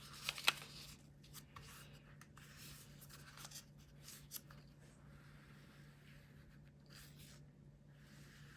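A white colored pencil traces over black shrink plastic, producing faint, steady scratchy rubbing strokes up close in a quiet room, with a few slightly louder strokes near the start.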